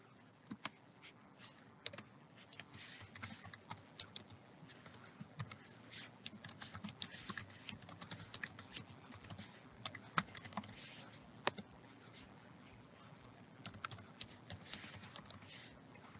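Computer keyboard keys tap quietly and steadily as registration fields are filled in, with irregular clusters of clicks across the whole stretch and no speech.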